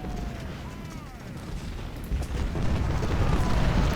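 Massed musket volleys in Ultimate General: Civil War during the Second Battle of Bull Run, a rumbling, crackling roar of distant rifle fire that swells louder toward the end, with a voice speaking faintly over it.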